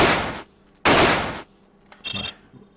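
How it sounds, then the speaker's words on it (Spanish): Two loud, booming revolver gunshots in quick succession in the video game Alone in the Dark: The New Nightmare, each with a short echoing tail, followed by a faint metallic clatter. "Vamos a utilizar el revólver, por supuesto."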